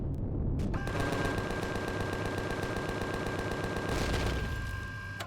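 Spaceship guns in the survival game Empyrion Galactic Survival fire a rapid, steady automatic stream, each shot evenly spaced, loud and continuous for several seconds under a constant tonal hum, with no talking.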